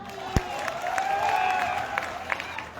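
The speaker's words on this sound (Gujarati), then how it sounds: "એના માટે આપણા બધા માટે તાળીઓ" Applause from a political rally audience in a Gujarati village gathering, a steady wash of clapping and crowd noise at moderate distance with a few sharper claps standing out.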